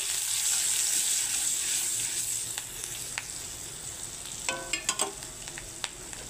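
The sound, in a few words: five-spice, green chilli and turmeric frying in oil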